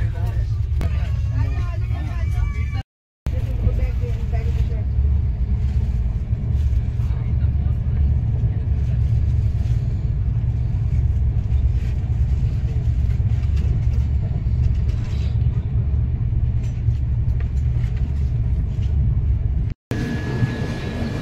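An overnight train rolls along with a steady low rumble and rattle of carriages, loud and continuous, while voices murmur faintly inside the coach and two brief dropouts break the sound.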